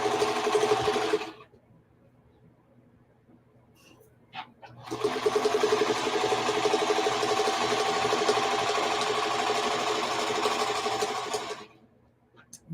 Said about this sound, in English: So now I'm sewing the other side